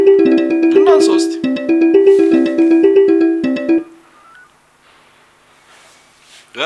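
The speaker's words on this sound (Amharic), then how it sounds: "ሽሜ ደወለች" An incoming call sets a phone ringing with a loud, bright melodic ringtone that repeats its note pattern for about four seconds, then cuts off into near silence.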